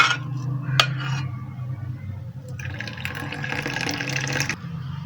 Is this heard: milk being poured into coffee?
yes